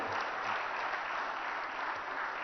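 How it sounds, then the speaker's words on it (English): A ceremony crowd applauds award winners of the day at an innovation awards event, a steady dense wash of clapping held at even volume throughout, somewhat distant and without voices on top. "one loud round of applause for all of our winners of the day"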